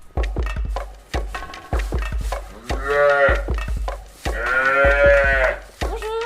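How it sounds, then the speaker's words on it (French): Calves in the nursery barn of an agricultural school farm at Le Quesnoy moo loudly and repeatedly up close, with knocking and clattering thumps between the calls and no talking. "ici on se trouve dans la nurserie où il y a les petits veaux, dont le dernier né qui est juste ici"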